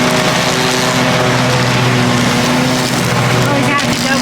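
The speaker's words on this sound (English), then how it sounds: "Jerry wants to mow. He loves this lawnmower." A lawnmower runs continuously with a steady droning engine hum, loud and close, while a voice talks over it.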